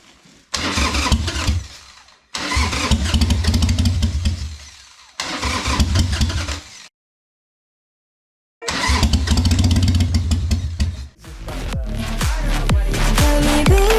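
A 1999 Harley Davidson motorcycle engine cranks and catches in several loud bursts, cutting out with a gap of silence before firing again and settling into a rough, throaty idle near the end.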